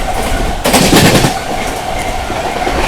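Sampoorna Kranti Express overtaking the Marudhar Express near Etawah Junction: a steady rumble of rolling rail cars and clattering wheels, swelling into a louder rushing surge early on before settling back to a continuous drone.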